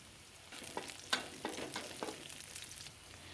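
Two green chillies fry in oil in a pan for a mutton liver pepper fry. A soft, steady sizzle runs under a few sharp scrapes and clatters of stirring, heard up close with no talking.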